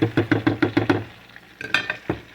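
Tortilla shells fry in hot oil until crisp, with a quick run of rhythmic clacks and scrapes as they are turned and moved in the pan, then a few scattered taps over a faint sizzle.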